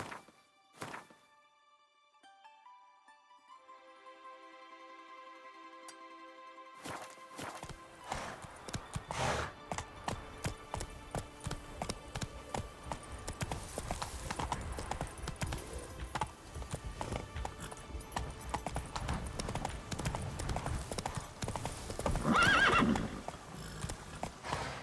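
Horse hooves clip-clopping and neighing in The Witcher 3 video game, following a tonal intro, with repeated hoof strikes and whinnies over a steady bed of game sound, growing louder toward the end.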